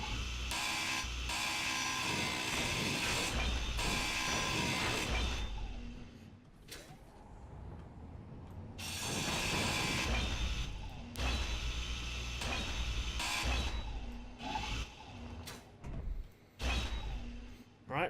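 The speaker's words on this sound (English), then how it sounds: "So we're just going to quickly grind this down." Mechanical grinding and creaking of a hand grinder cutting down a block in Space Engineers, a fairly quiet continuous whir that swells and fades in several passes before breaking into short bursts.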